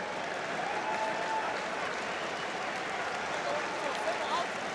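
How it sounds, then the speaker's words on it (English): Stadium crowd at a Rugby World Cup match between Japan and Samoa applauds players leaving the field, a steady wash of distant clapping and crowd noise throughout, with commentary voices faintly beneath. "So applause for those players coming off."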